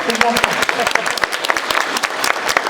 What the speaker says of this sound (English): Give her an applaud again, please.